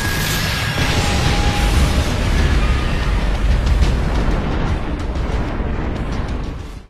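A huge explosion at a fortress in the Attack on Titan anime: a loud, sustained roaring rumble with crackling debris that holds steady for several seconds, then fades abruptly.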